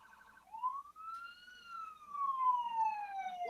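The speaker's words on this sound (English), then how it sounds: "That's a police car, Tom" A police car siren wails at a distance. One long tone rises, then falls slowly, fairly faint, with no voices over it.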